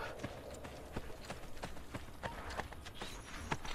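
Horse hooves clip-clop in a steady, repeated beat of sharp knocks over a busy game soundscape in Assassin's Creed: Brotherhood, moderately close and fairly loud.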